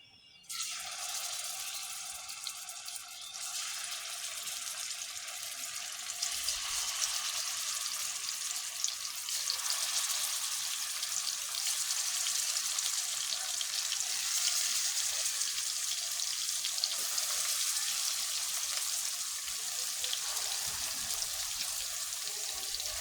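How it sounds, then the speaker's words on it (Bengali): River fish fries in hot white oil in a pan. A dense, steady hiss runs unbroken throughout and grows slightly fuller after the first few seconds, with no talking. "এখন আমি মাছটা ভেজে নিব"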